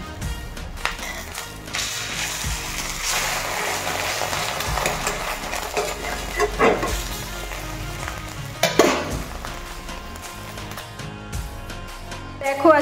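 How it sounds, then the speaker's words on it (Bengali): An egg omelette fries in a hot pan with a crackling sizzle broken by clatters and knocks of a utensil, and a few louder bumps; the sound is close and lasts throughout. "একদমই গরম গরম ডিম অমলেট বানাচ্ছি এখন"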